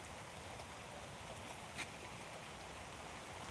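Steady rain falls over a farm field in a village, a continuous faint hiss with no break and no voices.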